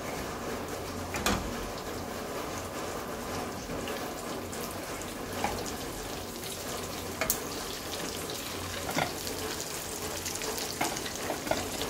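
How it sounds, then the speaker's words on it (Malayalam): Breadcrumb-coated beef cutlets frying in hot oil, a steady crackling sizzle throughout with a few sharper pops and spatters, close and moderately loud, no voices. "ഇനി ഇത് നല്ലോണം പൊരിഞ്ഞ് വരട്ടെ"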